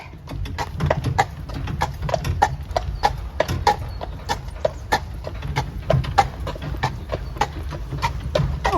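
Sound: horse-drawn carriage hooves clip-clopping

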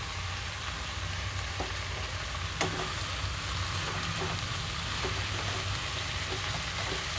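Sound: amaranth leaves and soaked chana dal frying in a pan

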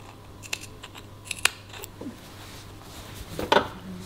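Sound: scissors snipping fabric near a stitching line

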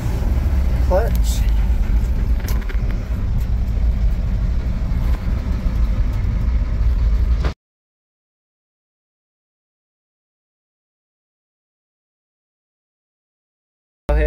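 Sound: 1969 Chevy C50 fire truck engine while shifting gears

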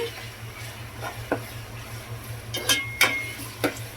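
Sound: ginger garlic paste frying and stirring in a pan

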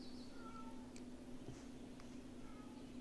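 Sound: stray cat whining outside

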